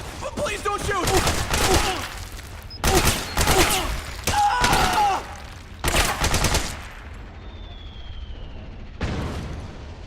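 Dense bursts of automatic gunfire and explosions in the video game Metal Gear Solid 4, coming in loud, chaotic volleys with short gaps, mixed with shouting voices and a fading whistling sound near the end.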